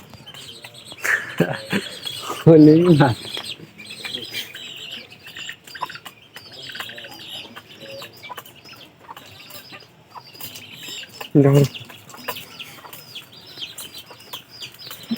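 Pigeons kept at home give soft throaty coos in two short bursts near three and eleven seconds, against a light background of other birds and faint human voices.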